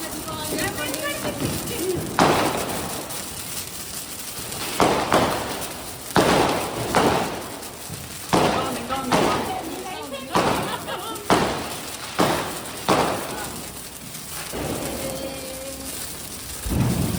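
Diwali firecrackers burst in a series of about a dozen sharp, booming reports at irregular intervals, with voices talking in between.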